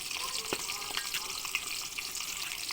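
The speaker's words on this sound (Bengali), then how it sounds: "এই যে চুলায় তেজপাতা দারচিনি দিয়ে দিলাম। এখন পেঁয়াজ দিই।" Onion sizzling in hot oil with bay leaf and cinnamon in a pan on a rooftop stove, a bright, steady frying hiss with occasional louder crackles and stirring clatter, close by.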